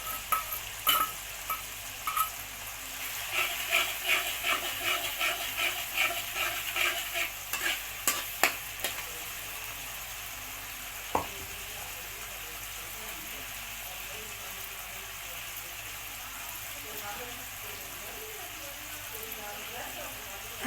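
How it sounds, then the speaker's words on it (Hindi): Red chillies, onion and chana dal frying in hot oil, with a crackling sizzle and a run of stirring scrapes and clicks early on, then a quieter, steady low sizzle, close by. "ये देखिए रेड मिर्चें डाल रहे हैं"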